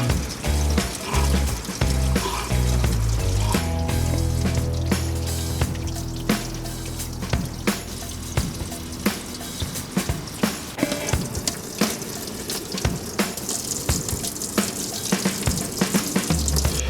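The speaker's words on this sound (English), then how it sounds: "I've put the hose with fresh water squirting into any outlets that were available on the car" Hose squirting fresh water into the air con outlets of a SAAB 9-3, a continuous splashing and hissing spray with irregular bursts and clatters as the stream moves between openings.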